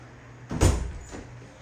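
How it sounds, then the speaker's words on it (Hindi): A household door is opened during Diwali decorating at home, giving a single thudding, rattling movement with a brief second knock, close by and moderately loud over a low steady room hum, with no speech. "ये दरवाज़ा खोलेंगे आप?"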